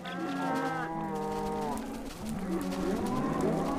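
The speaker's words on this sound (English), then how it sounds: "I think the cows are a little bit noisy here" Minecraft cows moo repeatedly near a farm in the video game, several drawn-out lowing calls overlapping across a few seconds at moderate volume, with no talking.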